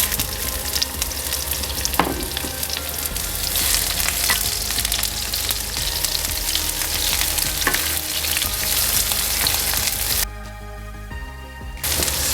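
Sliced onions sautéing in hot oil in a pan with leftover soya meat flavor, a loud, dense crackling sizzle that runs throughout, easing briefly near the end before returning.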